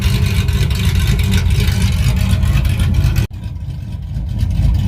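A cammed Ram pickup's Hemi V8 runs loudly up close with a steady, deep, lumpy rumble; there is a brief dip near the end before the engine roars on.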